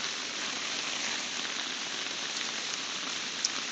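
Heavy rain pouring steadily in Singapore, a dense, even hiss of water on surfaces with no break, moderately loud and unaccompanied by voices.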